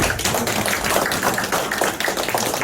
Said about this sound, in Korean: 우리 박수로 뜨겁게 환영하겠습니다